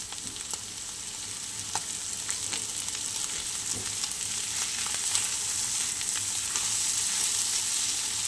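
Egg and snake gourd fry in a pan with a loud, continuous sizzle, broken by occasional sharp clicks from stirring, and no talking.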